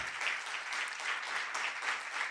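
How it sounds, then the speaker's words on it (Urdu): A church congregation applauds for the glory of Jesus, a steady wash of many hands clapping at moderate volume throughout, with no voices on top. "زوردار تالیاں یسوع کے جلال کے لیے"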